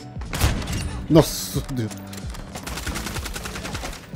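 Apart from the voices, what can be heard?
sniper rifle gunfire in a video game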